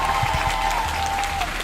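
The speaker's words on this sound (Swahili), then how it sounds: "Mpigie Bwana Yesu makofi." A church congregation clapping hands in praise of Jesus, a dense, steady round of applause filling the space for a short stretch.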